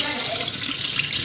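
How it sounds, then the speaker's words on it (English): Water pours steadily from a tap onto beans set to soak before blending for Nigerian akara, a continuous splashing stream in a kitchen. "I'm going to be putting a bit of water to it."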